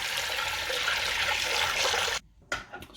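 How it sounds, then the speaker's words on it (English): Cold water runs in a steady, close rushing stream onto rice being washed, cutting off abruptly after about two seconds before a short final splash. "the first step is to wash the rice, which basically means to run cold water onto it"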